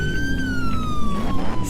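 Police car siren in a driving video game, a steady loud wail that slowly falls in pitch over a low rumbling car engine, with no talking.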